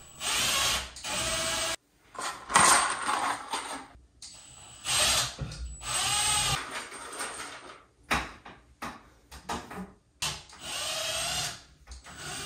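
A power drill bores into a wall while shelf brackets are being mounted, with repeated close, loud bursts of whirring drilling separated by short pauses.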